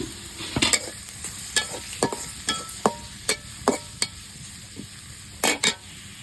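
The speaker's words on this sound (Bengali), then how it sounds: "তো তেল বাগার দিব, পেঁয়াজ কিছু রসুন কিছু দিয়ে দিছি" Onion and garlic frying in hot oil as a tempering for dal, a steady close sizzle punctuated by a dozen or so sharp scraping clicks of a stirring spoon against the pan at an uneven rhythm.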